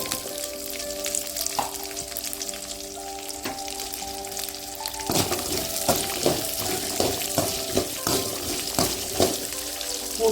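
Onions sizzling and frying in a pan while making guava chutney, a steady loud hiss with stirring scrapes and clatter growing busier in the second half; a sustained hum runs beneath, and no one speaks.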